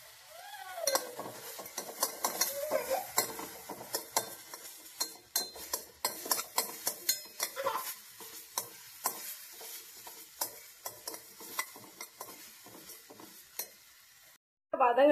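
Ingredients for a baby-food oats dish sautéing in a pan: a soft, low sizzle under repeated quick scrapes and taps of a spoon against the pan, fairly close, stopping briefly at the end.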